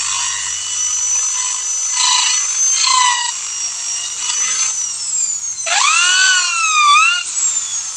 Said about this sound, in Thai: ดอกสว่านมันเล็กไปนิดนึง ควงควงไว้